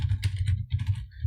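Rapid, uneven clicking of keys on a computer keyboard, close and fairly quiet, with a steady low hum underneath and no talking.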